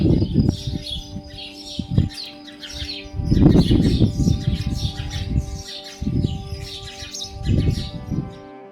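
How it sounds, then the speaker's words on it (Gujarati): Many birds chirp and call at Gangta Bet in Kutch, with dense overlapping tweets and squawks and a lower cooing in waves throughout, with no voices. "અને ખૂબ જ સુંદર મજાનો પક્ષીઓનો કલરવ મિત્રો તમે સાંભળી રહ્યા છો"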